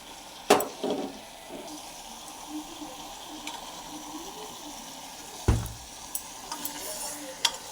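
Ginger, garlic and cumin paste being stirred into mutton frying in a pan for curry, with a soft steady sizzle broken by a couple of sharp scraping stirs near the start and middle, close and fairly quiet, no voices.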